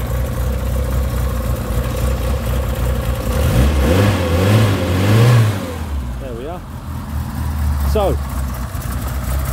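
A 1978 Ford Escort RS2000 engine runs at a steady idle up close, with a low rumble, a couple of slow blips of the throttle and someone talking over it.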